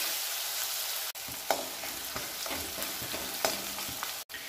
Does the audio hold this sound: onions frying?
yes